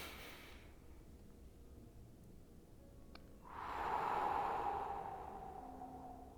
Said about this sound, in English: you take a breath in,